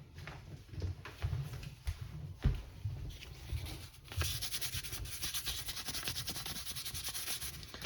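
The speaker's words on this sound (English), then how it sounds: "now I'm going to go in with some fine grit sandpaper" Fine 1000-grit sandpaper working over a cast resin skull sculpture, soft close scratchy rubbing strokes at first, then a steady continuous sanding hiss, with a few handling bumps.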